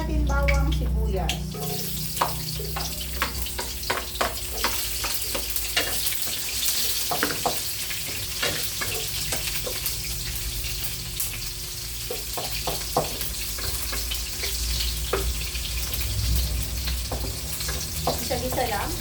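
Garlic and onion sauté in a hot pan for an ampalaya dish with shrimp and oyster sauce, giving a steady close sizzle and hiss with scattered crackles and spatula scrapes throughout, and no talking.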